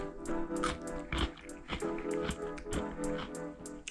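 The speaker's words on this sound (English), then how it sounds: "eating loud, crunchy green beans." Someone chews crunchy pickled spicy green beans up close, with repeated sharp crisp bites and wet crunching in an uneven rhythm, no talk.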